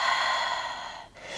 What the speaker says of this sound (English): Big breath in. And a big breath out.